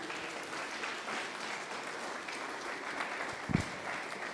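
A church congregation claps together, a steady wash of applause at moderate distance with one sharper knock near the end.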